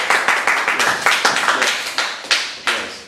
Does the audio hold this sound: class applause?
yes